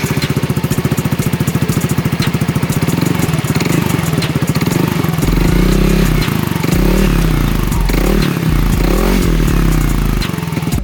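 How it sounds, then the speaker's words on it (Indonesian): A Yamaha NMAX scooter fitted with a Polini Evo aftermarket exhaust, close and loud, idles with a rapid thumping pulse and then revs repeatedly in rising and falling bursts of deep exhaust roar. "Oke, jadi ini dia suara knalpotnya."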